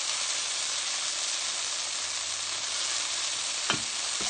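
A vegan banana blueberry pancake sizzles in a skillet with a steady, close frying hiss, then a brief clink near the end as a utensil touches the pan, and no talking.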